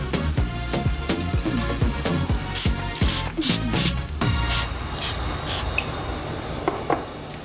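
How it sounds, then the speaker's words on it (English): Several short hissing bursts of cooking oil spray onto chicken wings in an air fryer, close by, come in a loose rhythm over a background of clanking and low rumbling. "I'm gonna give these a spray before I flip them over."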